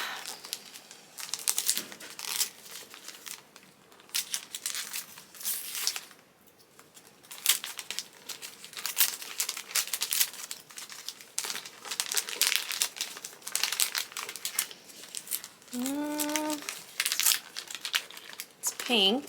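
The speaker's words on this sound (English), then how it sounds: "So let's unwrap this one" Paper wrapping torn and crinkled off a book, continuous close rustling and tearing over about twenty seconds, with a brief voice partway through.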